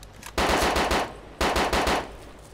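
Two sustained bursts of rapid automatic gunfire in DayZ OverPoch, each lasting about a second, loud and close with a short pause between them, no talking over the shots.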